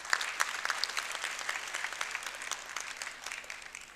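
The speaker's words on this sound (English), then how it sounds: "So we should give him a big round of applause." An audience applauds at an inauguration speech, a dense, even patter of many hands clapping together that holds steady and then slowly fades toward the end, with no voices over it.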